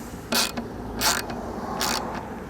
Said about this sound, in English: all you need is a 1/2-inch socket to tighten this up